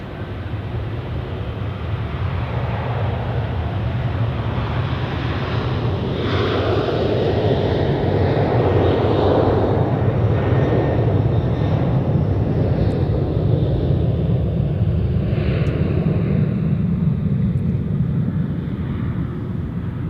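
A Boeing 777 and an Airbus A340 taxi at Zurich Airport in the evening, a steady broad jet-engine roar that swells a little midway and holds loud and continuous throughout.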